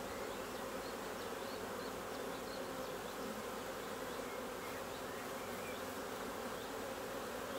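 Dense, continuous buzzing of many honeybees close by on a hive frame, a steady hum with no voices.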